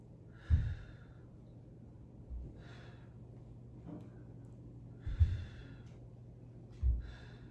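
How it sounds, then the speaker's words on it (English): Heavy breathing during a yoga sculpt workout: several sharp, fairly close exhales and inhales spaced a few seconds apart over a quiet low hum. "So you're trying to exhale when you take it back, inhale when you come forward."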